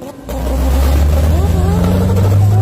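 A car engine in Ahvaz, Iran, starts and then revs loud and steady nearby, its rising drone filling the stretch while voices talk over it.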